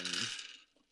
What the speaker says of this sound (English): That's a lot of dice.